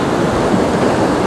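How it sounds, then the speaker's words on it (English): Ocean waves rush over coastal rocks in a loud, continuous wash of churning surf and spray, close and broadband with no pauses. "I'm just going to wait for the waves to calm down a little"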